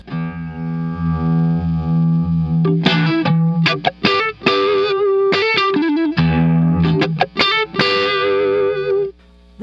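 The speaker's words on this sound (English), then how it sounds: "let's put on the Deja vibe." Electric guitar played through a Deja Vibe pedal, a sustained chord followed by phrased riffs and bends with a swirling, chorus-like warble and light distortion, loud and close, with no talking.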